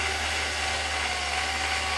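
A small power drill bores slowly into a broken plastic RC car part, giving a steady, close, continuous high-pitched whine that holds even for the whole stretch.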